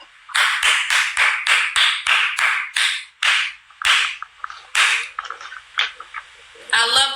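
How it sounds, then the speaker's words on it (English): A few people clap in a rapid, uneven burst of sharp slaps, loud and close, that thins into scattered claps before a brief closing flurry. "That deserved a round of applause"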